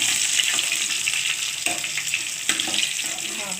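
Rohu fish pieces go into a hot pan of oil with a loud, steady sizzle, sharp crackles and spatters rising at intervals, close and alone with no talk.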